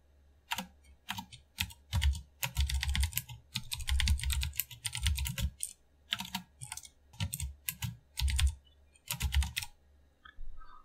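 Keys clatter on a computer keyboard in quick irregular bursts of close, crisp taps with short pauses between runs, with no one speaking.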